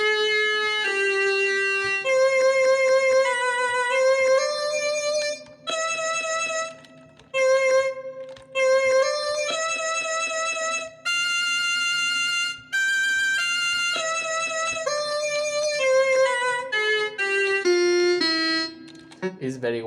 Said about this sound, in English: this is the sound of the Mig-Whiz that I have